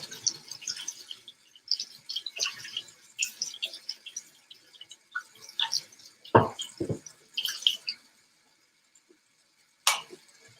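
A kitchen knife is rinsed under a running tap after sharpening, with intermittent splashing and small clinks up close that stop abruptly, then one sharp clink after a short pause.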